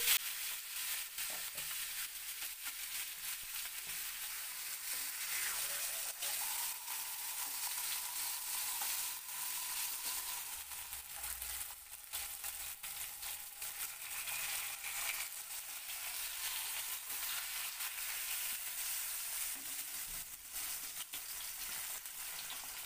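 Fish pieces frying in oil in a pan, a faint, continuous sizzle with occasional soft stirring or turning noises, steady throughout with no speech.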